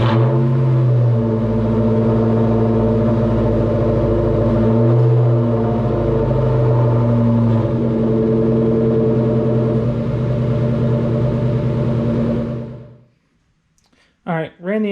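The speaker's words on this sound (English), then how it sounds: "let's get the engine warmed up" A Ford Mustang Mach 1 engine idles steadily while warming up toward operating temperature, a loud, close, continuous low hum with a slight rise in revs partway through, then it cuts off abruptly into near silence.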